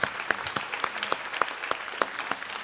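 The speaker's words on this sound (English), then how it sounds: "Please give them another round of applause." Audience applause at a youth volunteer programme celebration, a steady patter of many hands with sharp individual claps standing out at an uneven rhythm, moderately close and without voices over it.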